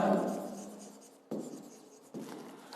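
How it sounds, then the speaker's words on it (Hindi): A pen writes in an account book, soft scratching strokes close up, one long stroke fading out followed by two shorter bursts of scribbling, quiet and with no talking. "तो मैं यहां पर लिख देता हूं in the books of Amar."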